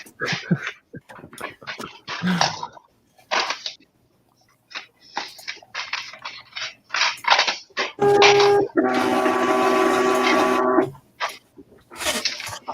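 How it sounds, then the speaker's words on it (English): A label printer running, a loud, close mechanical whirring buzz lasting about three seconds, preceded by scattered short rustles and knocks. "That was my label printer."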